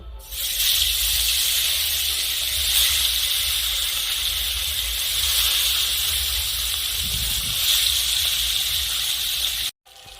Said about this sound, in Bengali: মাছ ভাজার জন্য তেলটা খুব ভালো করে গরম করে নিয়েছি, এখন আমি মাছ ভেজে নেব